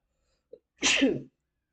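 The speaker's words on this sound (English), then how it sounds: "Had to sneeze real quick." A single close sneeze, a short intake of breath followed by a sharp, loud burst.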